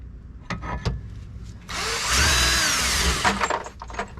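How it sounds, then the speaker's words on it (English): Power drill with a 3/8 drill bit boring a bolt hole during unibody repair and skid plate install on a Jeep Cherokee, a steady whining burst of about two seconds amid scattered workshop knocks. "So we use the same 3/8 drill bit we used for the bolts on the little mounting plate we fabricated up."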